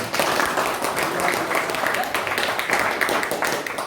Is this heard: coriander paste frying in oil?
no